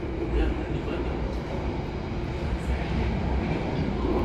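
Interior of the KA Turangga Panoramic passenger train running from Surabaya to Bandung, with a steady, loud rumble and rolling rail noise and no clear speech.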